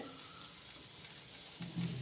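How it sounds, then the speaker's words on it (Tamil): Soft, steady bubbling and hiss of water coming to a boil in a pot, low and close, growing a little louder near the end. "இப்போ இது தண்ணி கொதிக்கிற ஸ்டேஜில் இருக்குது"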